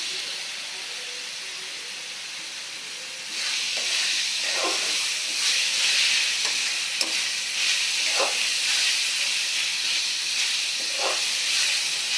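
Onions and pabda fish fry in a pan, a quiet hiss that swells into a steady loud sizzle, punctuated by a few clinks of stirring, with no one speaking.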